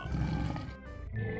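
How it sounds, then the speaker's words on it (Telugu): Two cartoon tigers roar as they attack, giving loud growling roars in two short bursts with a brief gap between them. "షేర్ఖాన్ ఏమైనా చెయ్యక ముందే రెండు పులులు తన మీద దాడి చేశాయి."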